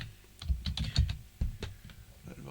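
Typing on a PS2 computer keyboard: a quick, irregular run of close, crisp key clacks with a few heavier thumps, alone without speech.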